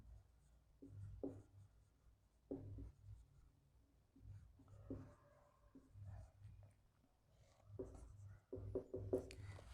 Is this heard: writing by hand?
yes